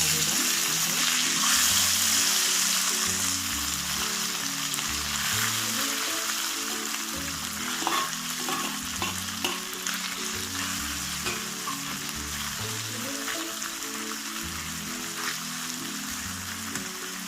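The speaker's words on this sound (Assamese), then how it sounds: "মাছখিনি মই ভাজি লওঁ" Small fish frying in hot oil in a wok, a dense, steady sizzle like rain on a surface, loudest at first, with occasional spatters and scraping stirs.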